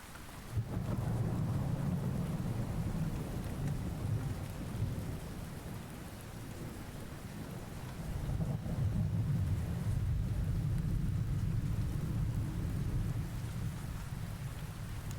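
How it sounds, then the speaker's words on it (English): Heavy rain pours under low rolling thunder that swells, eases around the middle, then builds again, with no voices. "The rolling thunder."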